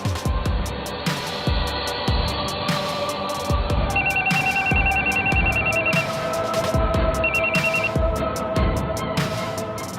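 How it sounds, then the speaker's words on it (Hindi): A telephone rings in repeated electronic bursts as a call connects, loud and steady against a busy background with no talk. "मजलूम औरत ने दूसरी बार नंबर मिलाया तो नंबर मिल गया।"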